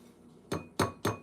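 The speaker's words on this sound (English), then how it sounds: "Don't tap your glass." Three sharp clinks of something tapping a glass jar, evenly spaced about a quarter second apart, close and bright against a quiet room.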